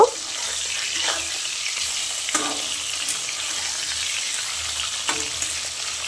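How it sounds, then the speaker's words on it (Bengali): Jiol fish frying in hot mustard oil, a steady broadband sizzle running the whole time with a few brief sharper crackles and spatters, close and fairly loud, no voices. "তো মাছগুলো আমি ভালো করে উল্টে পাল্টে ভেজে নেব।"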